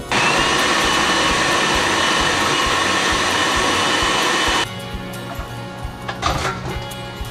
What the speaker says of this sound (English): you're just gonna pulse this all up until it's good and creamy